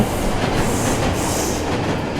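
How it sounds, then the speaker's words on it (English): A metro train runs steadily in the video game Last Stop, with a continuous rumbling roar and faint rhythmic wheel clatter that stays loud and close for the whole stretch, without speech. "Piękne metro."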